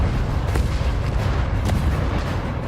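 Bombing explosions from a war film scene set in Afghanistan, with a deep continuous rumble and booming blasts that fill the whole stretch and give two sharper bursts.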